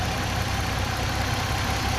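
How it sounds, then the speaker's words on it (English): An Acura RL engine idles steadily after a fuel pressure regulator replacement, a low continuous rumble with a faint regular knock, close by and with no voices. "So far we've been idling for a while."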